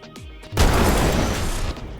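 A torpedo launching from a Valkyrie ship in Star Citizen: a sudden loud booming whoosh after a brief quiet, sustained and slowly fading.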